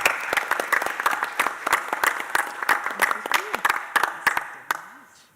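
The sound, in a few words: audience applause for the GAR Foundation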